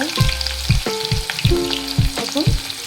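Chopped onion sizzling in hot oil with mustard seeds and curry leaves for Mumbai batata vada, a steady close frying hiss broken by a few sharp spatula scrapes and taps against the pan, with no voices.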